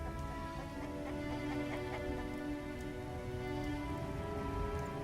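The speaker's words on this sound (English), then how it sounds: "Not good. It's raining. Come on! What a downpour." Heavy, steady rain pours down throughout in The Witcher video game, a continuous close hiss of a downpour with no pauses.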